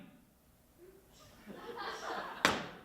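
A single sharp balloon pop bursts near the end of a live student talent show act on a school stage, after a growing murmur of audience voices and chuckles.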